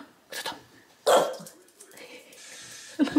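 Dog barking with a ball held in its mouth, a few muffled, choked barks and yips, close by, followed by a soft whine, with a person talking nearby.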